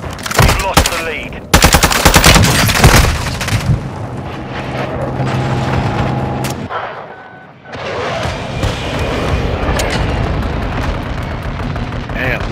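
Gunfire in Call of Duty: Modern Warfare II: loud rapid bursts and booming shots crowd the mix, then a brief lull before dense firing and rumble resume, with a voice calling out in the game.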